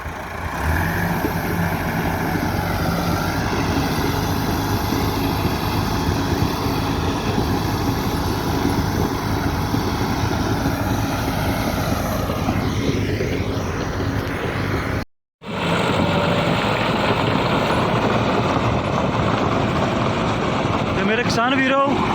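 A Massey Ferguson MF 375 tractor engine runs steadily in a field while preparing for maize sowing, a loud close drone with a brief cutout; someone talks over it.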